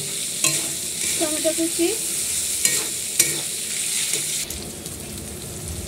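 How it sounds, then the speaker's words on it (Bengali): Spice paste sautéed in a pan, loud close frying sizzle with a handful of scraping stirs and utensil knocks; a voice speaks briefly over it. "এখানে পেস্টটা ভালো করে কষিয়ে নেবো, নাহলে কাঁচা গন্ধ থেকে যাবে।"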